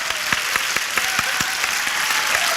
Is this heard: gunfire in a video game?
no